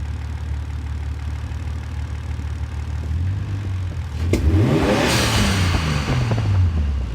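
A turbocharged car engine revving with no load, idling steadily before climbing sharply in pitch as the throttle opens fully, then holding a loud, rising rev as boost builds, close and clear with no talk.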